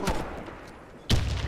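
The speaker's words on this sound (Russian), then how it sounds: "Кидаю гранату." A grenade blast in an online shooter game during a clan tournament: a sharp, loud, close explosion with a broadband burst, followed by a sustained noisy tail amid ongoing gunfire ambience.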